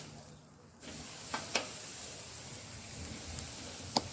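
Picanha skewers laid over hot charcoal give a steady broadband sizzle and hiss that starts abruptly and continues, with a few sharp pops and crackles on top.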